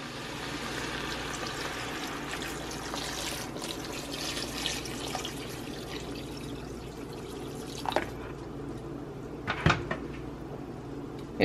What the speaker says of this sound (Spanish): Agregamos agua.